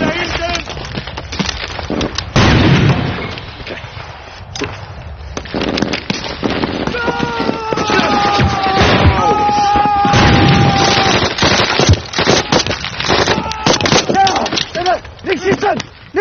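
A war battle scene with grenade explosions and gunfire: dull booms and sharp crackling shots scattered throughout, mixed with shouted voices and other battle noise.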